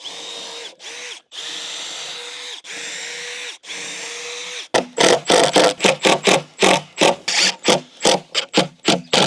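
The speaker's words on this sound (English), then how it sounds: "now we're gonna put 4 more screws in the back here for good measure." A power drill driving screws into wood while building a wheelie trainer, first several steady whirring bursts with short pauses, then a rapid series of choppy, loud stuttering pulses as screws bite in, close and alone.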